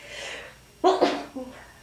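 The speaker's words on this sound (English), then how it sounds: "I got to sneeze." A single sharp sneeze bursts out after a brief breath intake, followed by a short exhale; close and fairly loud.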